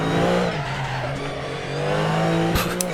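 A race car in the Assetto Corsa driving game spinning its wheels, with a steady engine drone and tire squeal running continuously, and two brief sharp bursts of skidding near the end.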